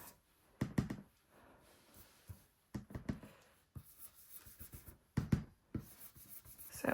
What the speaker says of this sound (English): use my blending brush to add some ink to both pieces of card